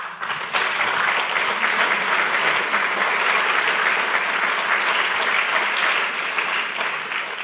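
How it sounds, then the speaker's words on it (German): An audience at a panel discussion breaks into sustained applause, a steady dense roar of many hands that stays loud and even for several seconds without talk. "Wenn es gegen die Medien geht, gibt es immer schönen Beifall."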